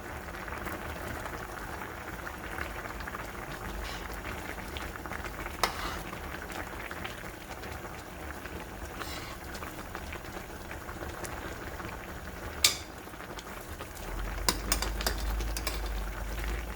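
Braised mackerel with aged kimchi simmering in a pot, a steady soft bubbling hiss with faint spoon clinks as broth is ladled over, close and quiet throughout.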